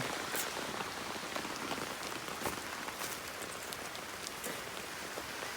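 Heavy rain pours steadily in Kerala, a dense, even hiss of drops striking surfaces nearby, with a few louder splats and no voices.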